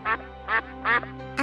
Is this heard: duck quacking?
yes